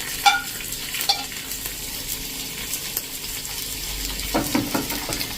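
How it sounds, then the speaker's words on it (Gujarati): Cashew and almond pieces, chopped chilli and ginger crackle in hot oil for a tempering, a close, steady sizzle with occasional stirring clatter and scrapes. "હવે આ વઘારને એકદમ સરસ આપણે આ રીતે તેલમાં જ કકડાવી લેશું આ બધું"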